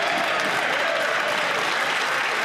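Dense, steady applause fills a parliamentary chamber during question period as many members clap together continuously at moderate volume, with no voices standing out.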